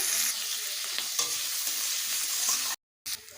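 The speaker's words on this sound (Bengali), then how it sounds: "পেঁয়াজগুলোকে লাল লাল করে ভেজে নেব" Chopped onions fry in oil over toasted whole cumin seeds until reddish, a dense, close sizzling hiss with light stirring scrapes, briefly cut to silence before the frying resumes.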